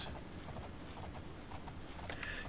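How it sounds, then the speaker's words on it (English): Hooves of a painted horse clip-clop at a steady walking pace in modded Minecraft, fairly faint and mid-distance, with quiet ambient game sounds and a brief bird-like chirp near the end. "Why is there a random painted horse hanging out around here?"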